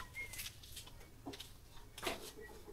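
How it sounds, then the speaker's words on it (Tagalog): A few soft clucks from nearby chickens come in short bursts over quiet background noise. "Ay, mga manok."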